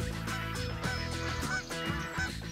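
A flock of geese honks noisily and continuously, many overlapping calls close by with no speech.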